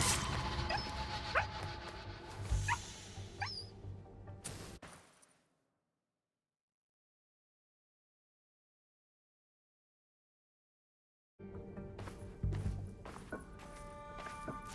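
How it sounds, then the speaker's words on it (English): Dog barking and yipping in the video game Assassin's Creed Shadows, mixed with in-game footsteps and ambient sound, cut off by a long stretch of silence before game audio resumes. "Enough of that damned barking!"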